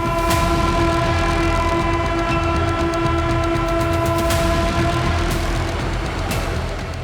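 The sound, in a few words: Vande Bharat train running from Katra to Srinagar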